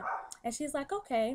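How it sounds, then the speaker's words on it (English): A pet dog barks several times in short, yappy bursts close by while a person talks over it. "That's my dog barking."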